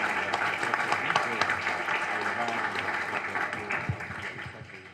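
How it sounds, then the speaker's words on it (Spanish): Audience applause for radio operators at a 2014 radio program event, a steady dense clapping wash throughout, fairly distant, with a voice or low murmur mixed in. "pido un aplauso y un reconocimiento para los operadores"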